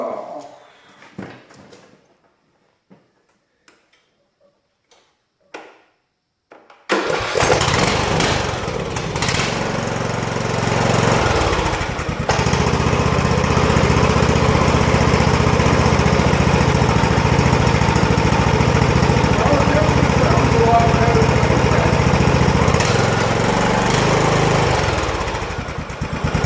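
A small engine, checked for mouse nest and rodent damage after valve work, goes quiet with faint clicks and taps before its starter kicks it to life, then runs loud and steady for about twenty seconds.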